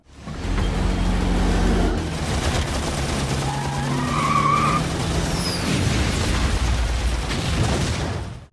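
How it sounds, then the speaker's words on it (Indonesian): Racing cars screech and skid while an armed truck fires at them, bursts of gunfire and pops mixed with engine roar, tire squeals and swooping whistles. "Truk itu pun mulai menembak dan membuat para pembalap mau tak mau menghindarinya."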